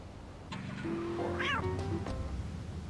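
A cat meows in a radio advert heard inside the video game Grand Theft Auto 3, a single drawn-out rising and falling meow over a low hum and some faint tonal background.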